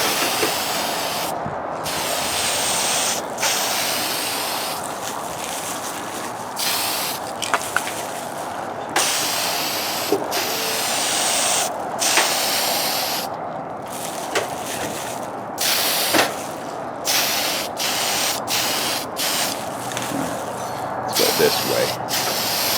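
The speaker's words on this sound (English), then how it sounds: "good weather for spraying the paint on here" Spray can laying clear coat over a vinyl wrap on a model car outdoors, a steady loud hiss in repeated long bursts broken by short pauses, with someone talking intermittently.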